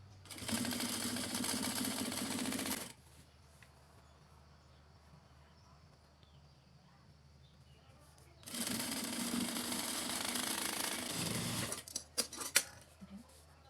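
A sewing machine runs in two long loud bursts while stitching girls' shorts, with a quiet pause between them and a few short stitches near the end.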